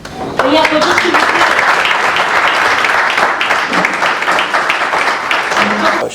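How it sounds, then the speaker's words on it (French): An audience at a political gathering applauds, a dense wash of clapping from a crowd that runs throughout, with voices mixed in over it. "Et applaudissez s'il vous plaît."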